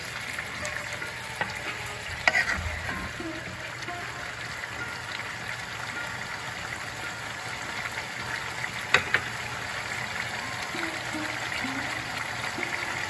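Steady sizzling of spice paste frying in hot oil, a continuous crackle with occasional louder pops and scraping stirs, no voices.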